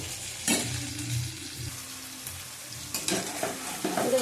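Masala for curd chicken fries in oil while a spoon stirs it, a close, steady sizzle broken by a few sharper scrapes against the pan.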